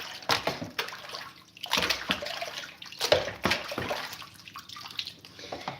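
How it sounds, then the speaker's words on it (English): A gold pan is rinsed out with water indoors, splashing and swishing in loud irregular surges with brief pauses, close up and with no talk. "So what I'm going to do is I'm going to rinse this out."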